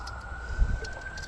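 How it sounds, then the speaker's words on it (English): A distant ambulance siren carries to a riverbank walk along the Housatonic River: a faint, steady wailing tone sits over low outdoor rumble for a moment, with no talk. "I hear the ambulance."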